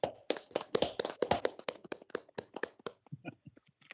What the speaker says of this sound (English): we're going to give you a collective round of applause, Josh